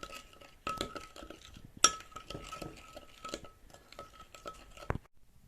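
Garlic bread ingredients are stirred and mixed in a bowl, giving a series of light clinks and scraping taps of utensil against the bowl at an uneven rhythm, close and fairly quiet.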